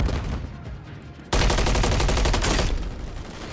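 Gunfire in the video game Warzone, a burst of rapid automatic shots that suddenly grows much louder and denser, then continues as a close, sustained fusillade.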